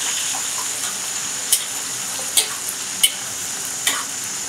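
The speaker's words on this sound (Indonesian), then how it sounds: "Dan goreng dengan menggunakan api agak besar agar crispy-nya itu tidak rawan rontok." Sausages coated in batter fry over fairly high heat, giving a steady, even sizzle with a few sharp clicks and pops spaced through it, close by and with no talk.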